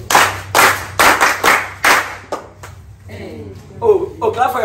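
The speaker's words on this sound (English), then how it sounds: "clap for yourself" Children and visitors at an orphanage clap in several loud, uneven bursts, then the clapping stops and voices talk and call out.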